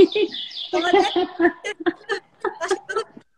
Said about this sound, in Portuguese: Eu acho que o passarinho tá atrapalhando.